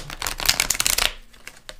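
Tarot cards being shuffled by hand, a rapid riffling flutter of card edges for about a second, then a few softer isolated card taps, close and alone without talk.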